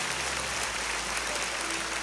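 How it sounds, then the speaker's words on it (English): A church congregation at 12Stone Church applauds steadily, a dense, even wash of clapping from a large indoor crowd that fills the whole moment without pause. "Just receive the applause of the people around you."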